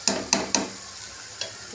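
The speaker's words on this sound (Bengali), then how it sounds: "আলুটা দিয়েও বেশিক্ষণ করে কষাতে হয়, আলু দিয়েও কষাচ্ছি 10 মিনিট ধরে" Potatoes are sautéed and stirred in a pan for Bengali aloo dum: three quick spatula scrapes in a row, then a pause and a fourth softer one, over a low steady sizzle.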